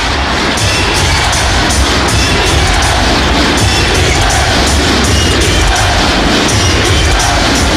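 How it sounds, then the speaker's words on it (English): A dense, loud roar of an NBA arena crowd in a 2003 Pistons vs Magic playoff game with steady rapid clattering of thunder sticks throughout, sustained without pause. "That's the first time we've hit the thunder stick clapping"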